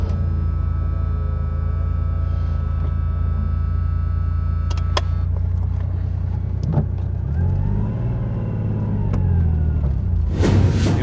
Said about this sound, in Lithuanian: užmeskime variklius